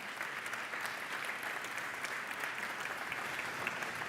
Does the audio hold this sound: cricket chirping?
no